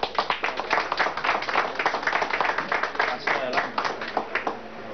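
Applause and clapping from an audience at the inauguration of a cable car in Mérida, Venezuela, sounding as a dense, steady patter of many hands with sharp accents, carrying on for several seconds.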